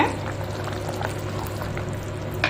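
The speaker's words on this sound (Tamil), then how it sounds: "ஒரு ஃபைவ் மினிட்ஸ் நல்லா கொதிக்கட்டுங்க" Jackfruit payasam simmers in a pot with a continuous low bubbling and gurgling that stays steady and close throughout, without any speech.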